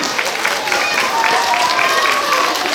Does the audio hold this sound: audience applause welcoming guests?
yes